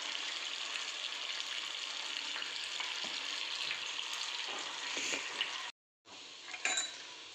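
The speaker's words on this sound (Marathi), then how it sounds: "डीप फ्राय होत आहेत आपलं." Potato balls deep-fry in hot oil with a dense, steady bubbling sizzle and a few clinks, heard close and alone; the sound cuts out briefly near the end before the frying resumes.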